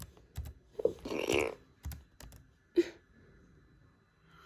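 Password being typed on a computer keyboard: scattered clicks and short bursts of keystrokes with pauses between them, close and fairly quiet, no voices.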